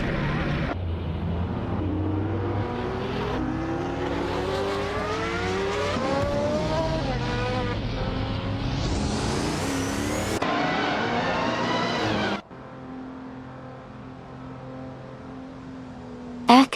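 A 1984 Fiat Ritmo 130 Abarth race car revving hard and accelerating through the gears, its engine note rising and falling loudly for about twelve seconds, then dropping to a lower steady drone.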